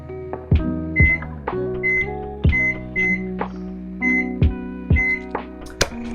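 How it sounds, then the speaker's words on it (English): A series of short electronic beeps from a microwave keypad, pressed one after another at an uneven pace, with a soft thunk at the end. "the first thing I'm going to do is actually set a timer on my microwave"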